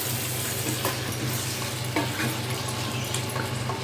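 Half a kilo of mutton for a ridge gourd and tomato curry is stirred in a hot pan, giving continuous sizzling and frying with scraping spoon strokes at close range, without speech.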